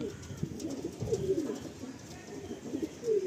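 Pigeons in a loft coo repeatedly with soft, throaty warbling calls, several birds overlapping close by against a low ambient background.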